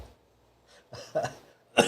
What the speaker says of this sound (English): Don't make me cough. I'm so sorry.